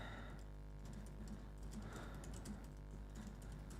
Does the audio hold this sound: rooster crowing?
no